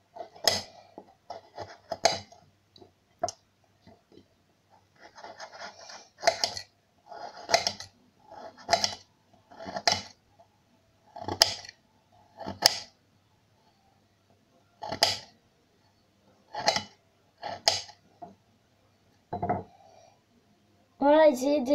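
A knife chops carrots into thin rounds on a board, giving a sparse series of crisp, close thuds at an uneven, unhurried pace, with brief pauses and a short spoken remark near the end.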